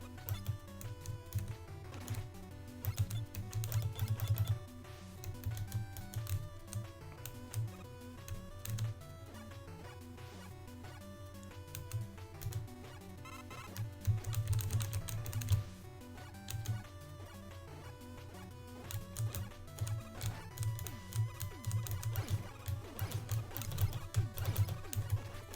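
Computer keyboard keys pressed rapidly and steadily while playing the platform game WarpMan, a soft irregular clatter running throughout alongside quiet, continuous electronic game music.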